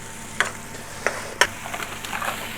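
Pre-cooked spinach sizzling in a hot pan for saag paneer in a takeaway kitchen, with three or four sharp scraping stirs of a utensil over a continuous low sizzle.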